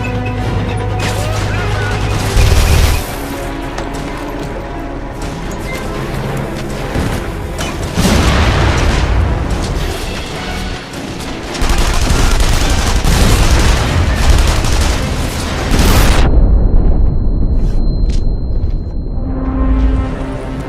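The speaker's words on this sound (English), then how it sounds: "Sounds like a fucking tank." Heavy booms, crashes and gunfire from a tank approaching and firing in the video game The Saboteur, loud and continuous across a dense battle scene with brief voices underneath.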